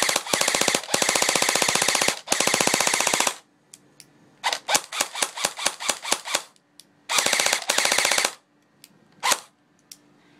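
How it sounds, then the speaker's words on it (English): An airsoft electric gun with high speed gears, powered by a fully charged 9.6V 1600 battery, fires loud rapid full-auto bursts up close, from long sustained strings to short clipped bursts and single shots separated by pauses. "here's like the rate of fire I've got right now"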